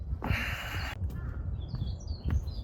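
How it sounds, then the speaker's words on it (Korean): Birds call at sunrise on a foggy mountain trail: a harsh caw-like cry, then scattered high chirps and tweets, moderately distant over a low background rumble. "해 뜨는 시간의 새소리가 유난히 분주한 것을 아실"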